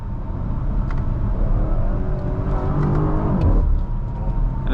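A 2020 BMW X5M Competition SUV's engine pulls hard under acceleration, a loud, deep rising roar heard from inside the cabin with steady rumble and a brief shift near the end.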